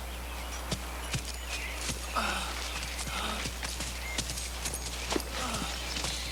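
Horses being rounded up on open plains, hooves clip-clopping in irregular, spaced strikes at moderate distance, with faint birds and insects over a low steady hum.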